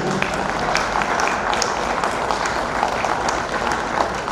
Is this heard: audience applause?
yes